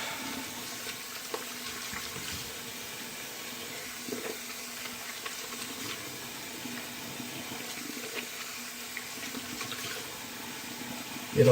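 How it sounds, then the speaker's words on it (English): Cold water runs from a tap for a rinse during a wet shave, a soft steady trickle with faint clinks and handling sounds, fairly quiet and without speech. "So now I'm going to do a cold water rinse."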